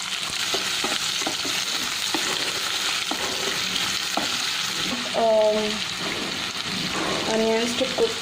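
Onion, chili and curry leaves sizzle steadily in a hot pan for a South Indian drumstick curry, with spoon scrapes and stirring throughout and a voice speaking briefly.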